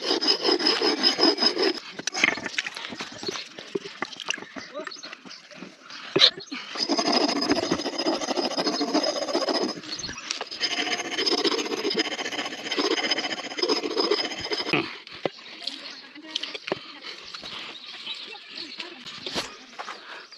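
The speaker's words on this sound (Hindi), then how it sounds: "इसको थोड़ा सा पत्थर पे घिसना होता है, इससे इसकी धार जो है और मजबूत हो जाती है।" An axe blade is rubbed back and forth on a stone outdoors to sharpen it, making steady rasping strokes that pause briefly and then resume before trailing off into scattered scrapes.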